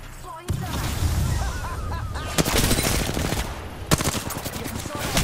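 Gunfire in a video game, a dense busy mix of repeated shots and bursts with sharp loud hits around two and a half and four seconds, under constant clatter and a voice speaking.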